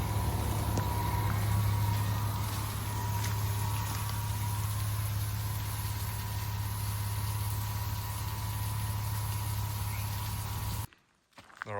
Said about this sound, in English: it's literally a waterfall just right on the side of the road here